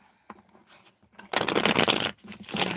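Tarot cards are shuffled close by, with faint handling rustles first and then a dense, rapid riffle lasting about a second, followed by a shorter burst.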